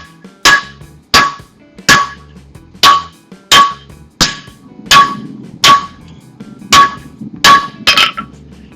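A hammer bashes the end of a square steel tube at close range, about eleven loud, ringing metallic blows spaced evenly, roughly two every second and a half.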